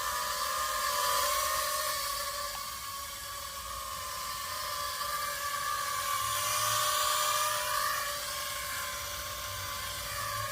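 Mini drone (GT3, D16 Mini, V66 or i1 Pro type) propellers whirring steadily in flight, a close, continuous high-pitched whine with slight pitch shifts as the small craft maneuvers, with no voices.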